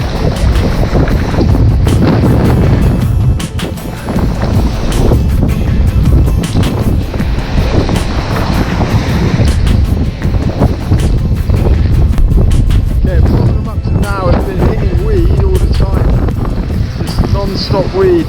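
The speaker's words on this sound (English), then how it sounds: "Hell of a wind, you can hardly stand up." Strong storm winds with gusts near 100 km/h buffet the microphone on an exposed coastline, a loud continuous roar through the whole stretch with surf beneath, while someone speaks over it.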